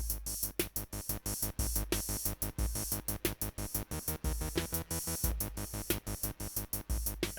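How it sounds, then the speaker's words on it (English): Arturia MicroBrute synth played through a Music Thing Modular spring reverb, a dense rhythmic pulsing pattern of sharp repeated notes with buzzy harmonic tones, steady and close, no voice. "the micro brute is going through the Music Thing modular spring reverb"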